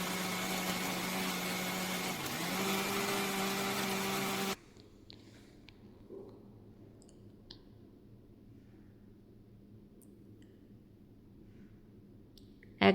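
An electric mixer grinder grinding utthapam batter to a fine paste: a loud, steady motor whir for about four seconds that cuts off abruptly, leaving a quiet room with faint clicks.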